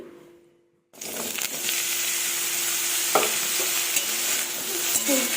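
Cut eggplant pieces hit hot oil after a brief silence, bursting into a loud, steady close-up sizzle that continues throughout, with a few light clinks of a utensil against the pan.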